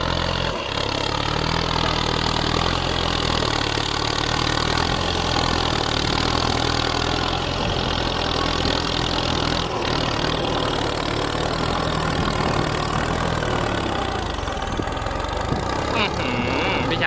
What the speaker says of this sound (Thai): นี่ เสียงเทอร์โบดังเบาๆนะครับ